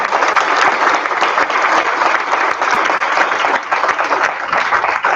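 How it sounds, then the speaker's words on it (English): A community evening audience gives loud, dense, sustained applause, a continuous wash of clapping that holds evenly from start to finish with no talking over it. "Let's have a big round of applause for John and Andrew."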